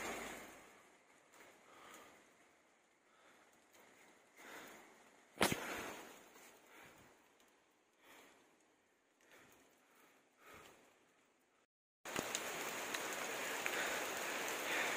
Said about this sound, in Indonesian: Hujan lagi, hujan-hujanan nih.